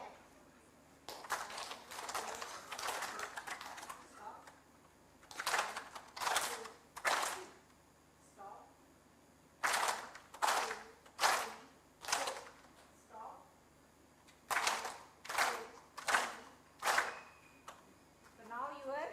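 Students at a school gathering clap together in crisp unison, in short rhythmic sets of about three or four claps separated by brief pauses, repeated several times in a quiet room.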